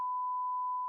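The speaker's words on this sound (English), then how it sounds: "That's my beep of the week." A single steady electronic beep holds one pure tone for about a second, loud and clean, starting and stopping abruptly with nothing else around it.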